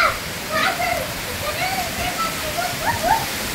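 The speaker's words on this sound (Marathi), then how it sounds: "लय मोठा पाऊस आहे" Very heavy rain pouring down during a storm with strong wind in Kharadi, a dense, steady hiss like a waterfall, with voices speaking over it throughout.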